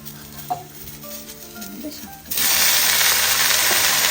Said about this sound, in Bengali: একটু ডিম মাখিয়ে রেখেছিলাম মাছের ডিম এটা ভাজবো